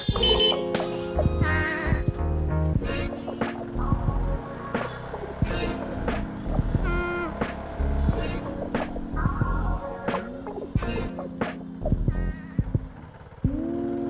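A CFMoto 250SR motorcycle being ridden, its engine rising and falling through the gears under steady road and wind noise, close and loud throughout.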